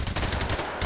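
Rapid automatic fire from an AK-12 rifle in the VR shooter Hot Dogs, Horseshoes & Hand Grenades, a loud, close, fast burst of shots with a brief gap near the end.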